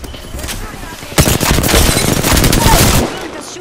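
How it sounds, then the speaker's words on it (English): Sustained burst of gunfire aimed at the player in the battle-royale shooter Apex Legends, rapid automatic shots starting abruptly after a quieter stretch, loud and close, running about two seconds before cutting off. "They're just shooting at me."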